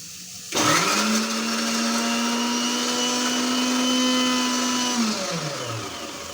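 Mixer grinder blending potato and garlic into a paste, starting abruptly with a loud steady whine that holds for several seconds, then spins down as the motor is switched off, close and with no talk.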